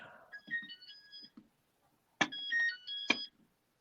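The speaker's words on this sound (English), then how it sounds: "Oh, it's timer, not a pager. It sounded like a pager." A timer alarm that sounds like a pager gives two bursts of sharp electronic warbling tones, each opening with a click. The tones are loud and close, with a short pause between the bursts.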